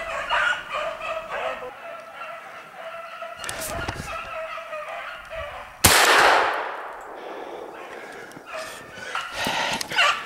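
Hunting dogs bark while chasing a hare, some loose barks over outdoor noise, with a sharp loud burst like a shot midway and more barking afterward.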